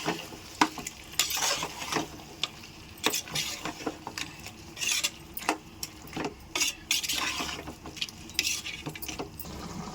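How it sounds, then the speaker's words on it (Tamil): A spoon scrapes and clinks against a pot in irregular strokes as thick mutton curry with yogurt is stirred, close and fairly quiet, with a faint sizzle beneath. "இப்போ பாருங்கள், தயிர் போட்டு நான் ஒரு கிளறுறேன்."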